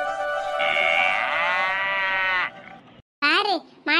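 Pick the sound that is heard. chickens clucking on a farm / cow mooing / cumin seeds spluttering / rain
cow mooing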